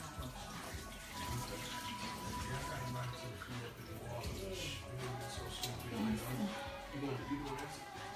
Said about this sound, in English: I'm gonna go ahead and strain this because I have it sitting in cold water